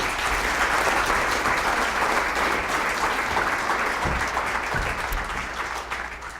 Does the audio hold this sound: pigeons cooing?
no